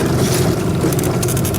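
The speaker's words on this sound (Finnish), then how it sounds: "Pikkusen reipas on toi tuuli." Brisk wind buffets a microphone on a boat out on the water, a constant loud rushing roar with gusty flutter and no voices.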